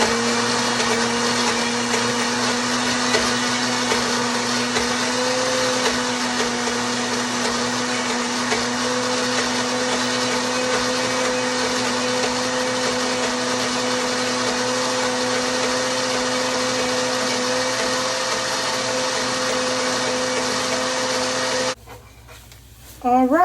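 A blender runs loudly and steadily, a constant motor whir with a high grinding edge, then cuts off abruptly near the end.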